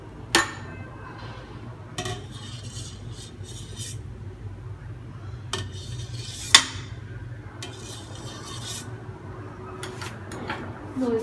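Milk is stirred gently in a rice cooker's inner pot while making sugar-free yogurt, giving scattered soft clinks and scrapes of a utensil against the pot over a low steady hum.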